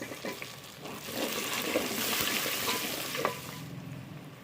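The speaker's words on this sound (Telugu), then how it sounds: "అల్లం పేస్ట్ పచ్చివాసన పోయేంత వరకు వేయించుకోవాలి" Onions and ginger paste frying in hot oil for biryani give a steady, close sizzle that hisses continuously throughout, with faint stirring clicks and no talk.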